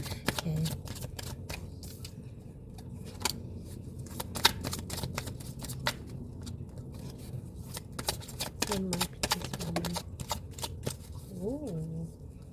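A tarot deck being shuffled gives a rapid run of crisp card riffles and taps. The sound is close and continues throughout, with some voice present near the end.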